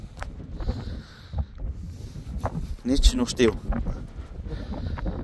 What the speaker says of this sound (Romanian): Bate vântul foarte, foarte tare.